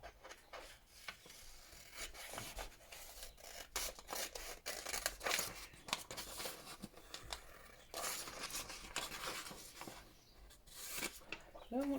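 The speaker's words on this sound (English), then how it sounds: "let's cut some of these, cut these stamps out" Scissors snipping out paper stamps from a sheet for a card-making craft, a run of close, dry crisp cuts and rubbing rustles of paper, fairly quiet and continuous with no talking.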